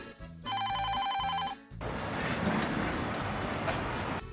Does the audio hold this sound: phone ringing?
yes